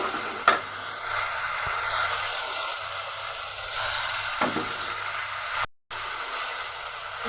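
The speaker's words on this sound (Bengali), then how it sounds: "এখন আমি চিংড়ি মাছগুলো দিয়ে দিব।" Shrimp sizzle in a pan with fried onion and spices: steady, close frying hiss with occasional stirring scrapes and a brief dropout near the end, no talking.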